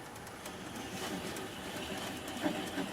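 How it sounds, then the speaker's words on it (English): A wood lathe spins at about 200 RPM while a gouge bevel cuts the bottom of a wooden candle holder, giving a quiet, steady, rhythmic scraping hiss with faint repeating pulses. "I'm going to apply the bevel of the gouge against the bottom of the candle holder"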